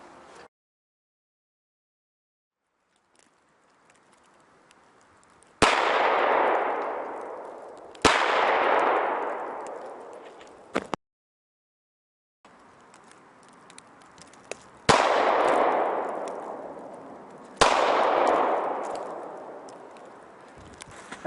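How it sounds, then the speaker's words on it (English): Four gunshots from 9mm and .40 handguns strike an armor plate outdoors, each a sharp loud crack with a ringing metallic clang that decays over a couple of seconds, spaced irregularly with quiet gaps between. "after just shooting about 4 rounds, so with 2 9mm and 2 40"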